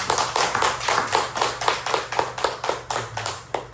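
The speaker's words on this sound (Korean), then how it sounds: "우리 또 격려 박수 한번 드리겠습니다" A church congregation claps in encouragement during a worship service, a fairly quiet, rhythmic unison clap beating steadily at about three to four claps per second, heard alone.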